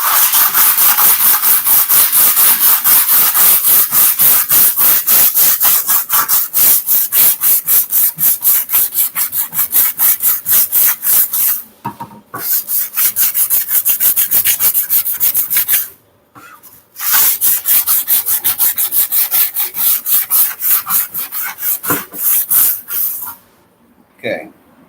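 A wooden shield is sanded by hand with grit paper. Loud, close, rapid back-and-forth rasping strokes run in a steady rhythm, broken by a few brief pauses.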